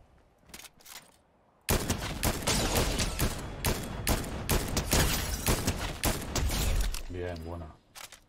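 Rapid, loud bursts of shotgun gunfire in Fortnite pound out in a dense, continuous volley after a quiet opening, followed by a mechanical reload-like rattle near the end.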